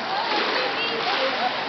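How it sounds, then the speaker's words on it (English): Splashing of feet paddling in cold sea water near white cliffs on a sunny beach day, a steady close wash of small sloshes throughout, with voices present. "And here is Zoe, sort of slightly paddling, but it's quite cold in there"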